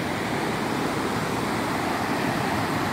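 Rapids of the Río Cangrejal, a rafting river, roaring as a steady, dense rush of turbulent water, loud and unbroken with no voices.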